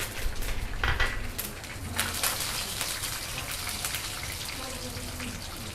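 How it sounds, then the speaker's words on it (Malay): Dried chilies frying in a pan give a dense, steady crackling sizzle with scattered sharp pops throughout, close and fairly loud. "Goreng lada kering."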